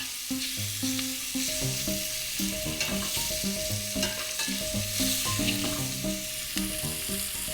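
Freshly ground cardamom frying in a pan for Sheer Khurma, a steady close sizzle with scraping stir strokes and light clatter running throughout, no talking.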